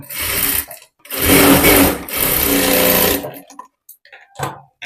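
A sewing machine stitches a half-inch folded strip on a blouse being fitted with an invisible zip. Three close, loud whirring bursts run back to back, then give way to near-silence with a few faint clicks.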